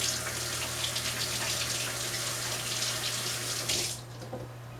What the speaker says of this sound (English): I'm going to rinse my hands real quickly